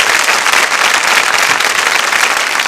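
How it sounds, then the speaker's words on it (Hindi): Audience at a Holi-themed quiz show in a girls' college hall breaks into loud, dense applause, steady and sustained throughout, with no voices over it. "ताली जोरदार गड़गड़ाहट के बाद"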